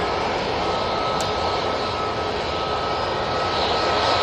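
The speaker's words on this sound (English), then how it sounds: "there is the Emirates on a taxi to stand 12" An Emirates airliner taxis to its stand at Manchester Airport, its engines a loud, steady, unbroken roar and whine filling the whole stretch.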